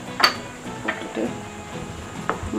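A utensil stirs chicken and milk in a metal pan while cooking Murgh Malai chicken, giving a few soft scrapes and sharp metallic clinks spaced irregularly over a quiet kitchen background.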